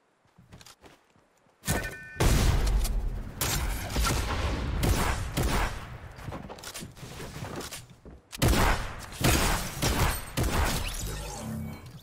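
Sniper rifle fire in Fortnite gameplay: after a quiet opening, loud sharp shots and heavy impacts hit in uneven bursts, with a brief gap before another volley.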